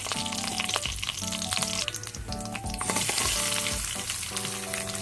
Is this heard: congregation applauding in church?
no